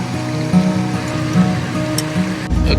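A river flows beside a riverside spot in Rocky Mountain National Park with a continuous, fairly loud rushing wash of water, steady throughout the short stretch.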